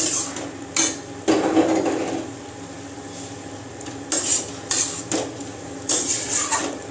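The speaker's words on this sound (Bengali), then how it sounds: "একটু ঢাকাটা খুলে তারপরে একটু নেড়ে নেব" A metal pot lid lifts off and a spoon scrapes and clanks against the pot while curry is stirred, a series of close, sharp clatters spread across the stretch.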